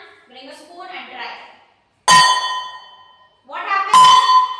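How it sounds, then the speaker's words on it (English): A spoon strikes a metal pan twice, each hit a loud ringing clang that decays slowly, the second following about two seconds after the first; someone talks before the first strike. "this is a spoon. Now when I am going to bang"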